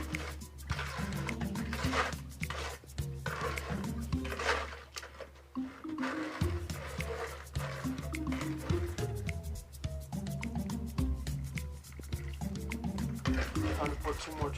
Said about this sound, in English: Mix it up with the trowel.